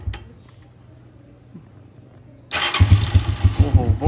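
A modified Honda 125 special edition motorcycle sits quiet under a low hum, then its engine fires up abruptly and settles into a loud, throbbing idle with a pulsing, raspy exhaust close by.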